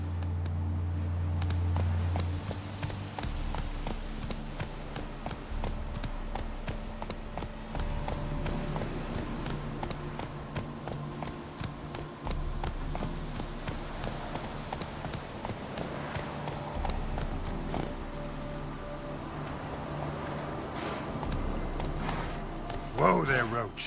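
Roach the horse from The Witcher 3: Wild Hunt, hooves clip-clopping in a steady rhythm at close range throughout, with a voice talking over the hoofbeats.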